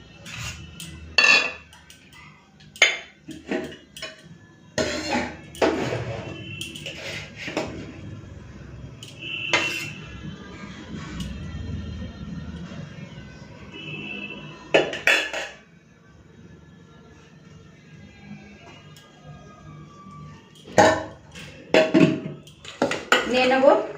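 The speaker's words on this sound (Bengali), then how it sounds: "চলুন ভাতটা বেড়ে নিই।" Dishes and cutlery clatter while rice is served for a Bengali lunch with rohu fish curry, giving sharp, irregular clinks and scrapes of plates and serving spoons, close and fairly loud, alternating with quieter moments under light background talk.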